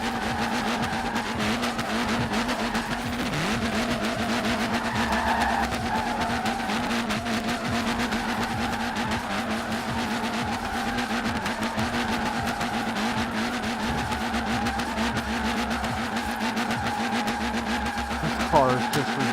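Car drifting with screeching tire squeal in Forza Horizon 4, a steady loud engine drone running throughout with skidding tones layered on top, no pauses.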